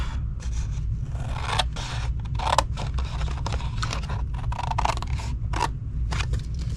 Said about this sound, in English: cut it to the second score line, and take these 4 pieces off